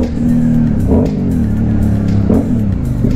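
A Hypermotard motorcycle engine revs loudly and up close, a continuous throaty roar with a couple of sharp throttle blips rising and falling.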